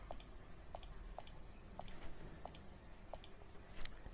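Faint, sparse computer keyboard keystrokes tap out at an irregular, unhurried pace, with six or seven separate clicks spaced roughly half a second apart and a slightly sharper click near the end.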